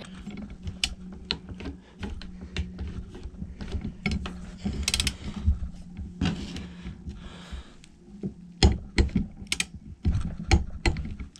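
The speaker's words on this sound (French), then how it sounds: "J'ai mis un boulon dessous avec la clé qui bloque dessous. La clé dynamo, on va serrer à 40." A torque wrench tightening a bolt to 40 Nm gives a long run of rapid ratchet clicks, close and crisp. Some pauses and heavier clacks come near the end.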